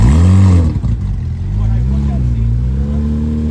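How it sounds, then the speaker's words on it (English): A Corvette with a chopped-cam LS V8 revs hard up close, its deep lumpy exhaust loud at the start before settling into a rough, loping idle at a Miami street-racing and drifting meet. "I love Corvettes. And this one sounds amazing. Nothing better in the world than a chopped LS."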